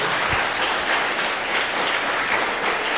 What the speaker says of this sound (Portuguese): dá uma salva de palmas à palavra de Deus, bem forte mesmo.